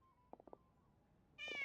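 A cat meows in the video game Genshin Impact, a few short, soft mews followed by a louder, brighter meow at the end, heard alone over quiet background.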